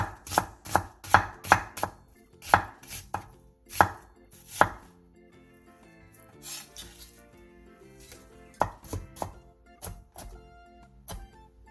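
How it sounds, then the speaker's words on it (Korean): A knife slices half an onion and a little carrot thinly on a cutting board, giving quick bursts of close, crisp chopping strokes that pause, then resume. "양파 2분의 1개와 당근 조금을 얇게 채 썰어주세요"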